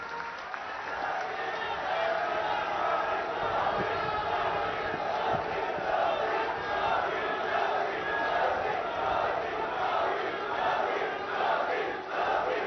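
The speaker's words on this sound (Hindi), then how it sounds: "माननीय प्रधानमंत्री जी, जोरदार तालियों के बीच।" Loud, sustained applause and crowd noise at a public event welcoming the Prime Minister in Mohali, a continuous roar of clapping with voices mixed in.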